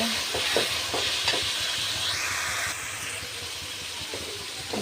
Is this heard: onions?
yes